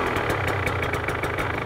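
A KTM 125 two-stroke motorcycle engine with an electric starter runs at a steady, fast-pulsing idle, close and continuous, with no talking.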